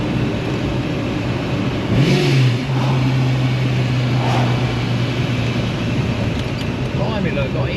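A Ford Mustang Foxbody engine pulls at part throttle, a steady droning note with a rising sweep near the start, heard from inside the car under constant road and engine rumble.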